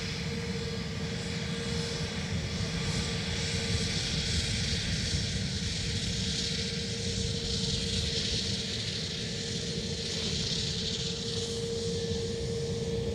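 A passenger airliner landing at Dublin Airport produces a continuous broad engine roar with a steady tonal whine, sustained and fairly close throughout.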